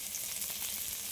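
Nigella seeds sizzle in hot oil in a pan, a steady, soft, hissing crackle that lasts about a second.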